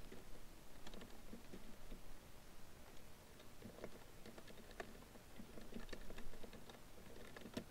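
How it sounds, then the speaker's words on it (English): Someone types on a computer keyboard in uneven bursts of soft, quiet clicks and taps in a hushed room. "then you start typing the body of your paragraph"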